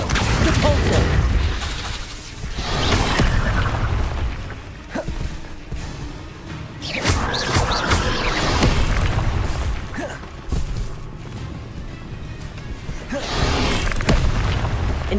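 Confringo and Incendio spell blasts in Hogwarts Legacy, a dense stream of booming fiery bursts and whooshes in rolling waves, loud and close, with a voice calling out between them.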